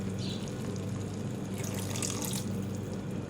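Water poured from a tap or jug into a pan of curry masala spiced with turmeric, Kashmiri red chilli, red chilli powder and coriander powder for chicken and egg curry, a short, steady, close splashing run with a brighter surge midway, no talk.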